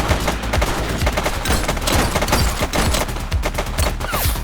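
Rapid bursts of gunfire in a police video game, The Precinct, with dense overlapping shots crackling steadily throughout and no speech over them.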